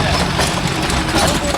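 Diesel engine of a Mahindra Arjun Novo 605 DI tractor pulling a rotavator in a field, a loud steady continuous drone held close throughout.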